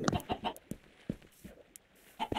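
A Minecraft chicken clucks in the game, giving short choppy bursts of clucking and squawks in quick succession at close range.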